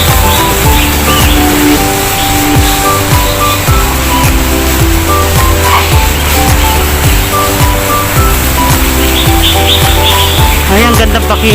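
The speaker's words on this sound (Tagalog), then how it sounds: "Ay, ang ganda pakinggan. Mga huni ng ibon." Small birds tweet in scattered bursts from the trees of Wan Chai Park, Hong Kong, set against a constant roar of urban traffic and background chatter, with voices speaking close by.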